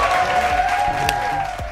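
Loud studio audience applause and clapping on a quiz show, steady and dense, with a sustained tonal hum and low musical notes underneath.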